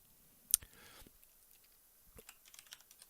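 Soft keyboard typing: a sharp click, then scattered light key taps in quick irregular bursts, quiet and close.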